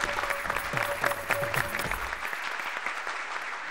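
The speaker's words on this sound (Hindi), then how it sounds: "जरा जोरदार तालियां बजाइए" Applause from a studio audience in a Hindi sitcom scene, a dense patter of clapping with background music for about two seconds before fading into quieter room noise.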